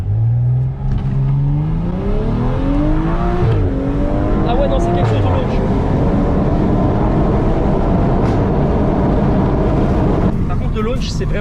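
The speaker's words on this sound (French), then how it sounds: "du coup on va tester le launch control, c'est parti" A tuned BMW M135i launches on launch control, its engine revving hard and climbing through the gears with loud sustained acceleration and brief shift dips, heard from inside the car.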